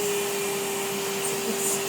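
A vacuum cleaner runs while cleaning a home's kitchen and stairs, giving a loud, steady whirring drone with no other sounds, for about two seconds.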